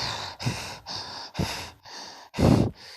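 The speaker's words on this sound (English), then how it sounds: "Tanjiro starts breathing heavily" Heavy breathing from an exhausted character in an anime fan dub, a run of loud, ragged breaths in and out, close up and with no talking.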